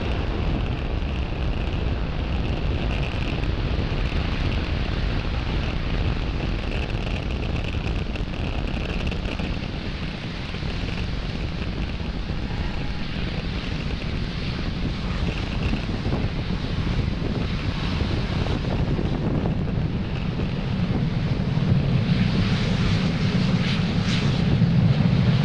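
SpaceX Falcon 9 rocket launching Starlink satellites makes a continuous broad, crackling roar, a steady distant rumble like wind that holds without break throughout.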